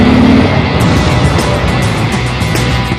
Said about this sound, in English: The Thunderstroke motor is potent yet oh so polished.